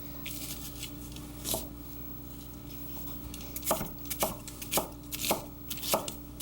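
Garlic cloves are chopped on a cutting board with a knife, several sharp close taps coming in a quick uneven run, with a few scattered ones before, over quiet room tone.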